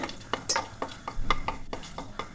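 Cinnamon and cloves go into a cooking pan, a quick series of close clinks and scrapes of a spoon against the metal over a soft sizzle, with no talking.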